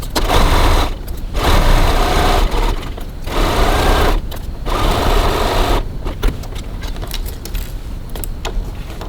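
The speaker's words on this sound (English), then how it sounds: "we're going over to the sewing machine and we're going to stitch that top seam" A sewing machine stitches a 1 cm top seam on a fabric cross-body bag, running in loud, steady bursts with brief pauses between them.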